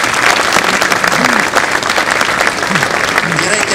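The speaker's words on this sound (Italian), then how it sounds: "Un applauso a tutti i ragazzi che lavorano con noi" An audience applauds the staff at the opening of an astronomy and space pavilion at an aviation museum, steady dense clapping throughout, with faint voices murmuring underneath.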